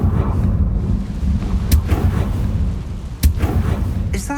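A Confringo blasting curse bursts in Hogwarts Legacy, booming, rumbling explosive blasts with sharp cracks over a roaring low background, one sudden strong hit near the end.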